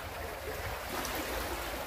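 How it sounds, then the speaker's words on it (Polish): Water rushes strongly through a stream, where the level is normally ankle-deep, making a steady, loud, broadband roar that swells slightly halfway through, heard alone at close range. "widać tutaj, jak rżnie ta woda"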